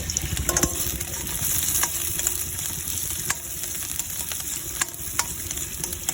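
Chopped onion fries in oil in a pan, giving a steady close sizzle broken by occasional stirring scrapes and clicks, with no talking.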